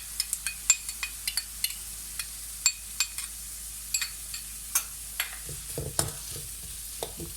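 Ginger garlic paste frying with sliced big onions in a pan, a constant soft sizzle with frequent sharp spoon-on-pan clinks and scrapes of stirring, close up and without talk.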